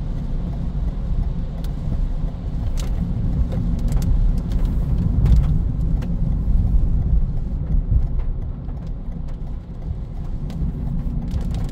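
A Toyota Yaris hybrid with a CVT cruises on a highway, giving a steady low engine and road drone with a continuous rumble that rises and falls slightly, with no talk.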